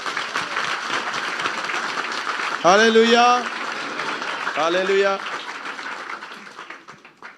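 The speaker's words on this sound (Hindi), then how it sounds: "मैं चाहता हूं उन सितारों के लिए हम जोरदार तालियां मारें।" Applause from a church congregation during a Christmas service, a steady wash of clapping under crowd noise, broken twice by voices loudly calling out in unison.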